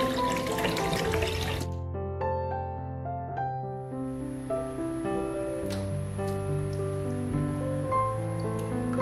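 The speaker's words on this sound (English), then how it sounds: "Wash them and remove the black impurities on the peach gums." Water runs from a tap over peach gum being washed for a moment over steady background music, then cuts off while the music carries on.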